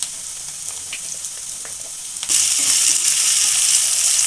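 Bitter gourd pieces fry in oil with onion and curry leaves for sambar. A quiet sizzle jumps to a loud, dense hiss partway through and stays bright and close, with no voices.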